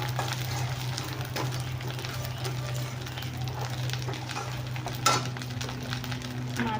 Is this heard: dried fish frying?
yes